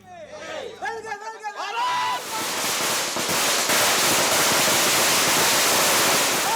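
Dense, continuous crackling bursts of firecrackers going off in rapid succession at a political celebration in Tamil Nadu, loud and sustained, with voices of a crowd beneath.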